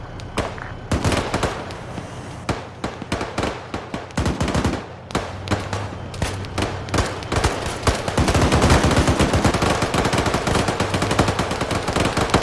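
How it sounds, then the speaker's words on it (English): Dense, continuous gunfire in Arma 3 with rapid machine-gun bursts, including a .50 cal, and overlapping shots, loud and relentless, intensifying toward the end; game-style combat audio. "There's so much gunfire going on, you can't even distinctly hear the 50 cal firing."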